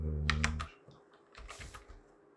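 Keystrokes on a computer keyboard while an email address is entered into a WordPress private page form, a few quick clustered taps at close range over a low background hum.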